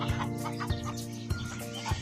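Nearby turkeys cluck and gobble in a low, throaty chorus, with a few sharp thumps recurring roughly every half second.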